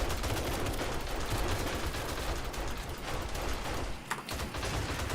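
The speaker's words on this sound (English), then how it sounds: "I keep shooting them until they don't get up" Dense, continuous gunfire from shooting feral zombies in the survival game 7 Days to Die, rapid overlapping shots filling the whole stretch at steady loudness, with a brief dip near the end before the firing resumes.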